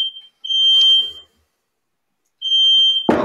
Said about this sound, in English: Is your fire alarm going off as well?